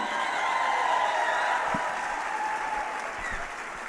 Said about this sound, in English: Give it up again for our band and our cheer team.